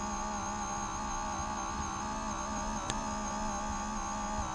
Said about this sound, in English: I'm sure that you can hear that motor running right now